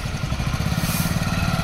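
A motorbike being ridden by a learner, its engine chugging in a steady pulsing rhythm up close with a faint rattle, no voices over it.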